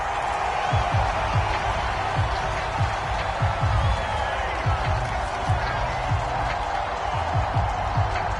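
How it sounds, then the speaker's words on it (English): Stadium crowd shouting and cheering in a PS4 American football video game during a replay, a broad sustained roar with scattered shouts and thumps. "Plenty of shouts from this crowd as they watch the replay."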